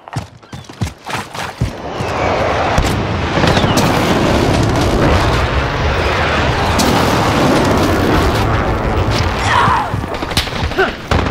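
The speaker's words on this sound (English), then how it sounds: "precision airstrike" Precision airstrike in the game Call of Duty Modern Warfare: a few sharp scattered cracks give way to a long, loud, rumbling barrage of explosions that swells and holds, with further impacts near the end.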